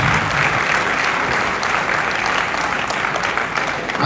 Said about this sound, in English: Please, I want you all to give him a resounding round of applause.